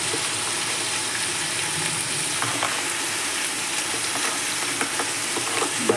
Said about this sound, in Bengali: আলু আর শিমলা মির্চিগুলো ভেজে নেব।